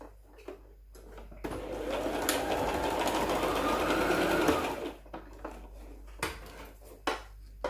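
A sewing machine stitches a closed seam on fabric in one continuous burst of about three seconds, rattling close and clear, with quiet clicks and handling noises before and after.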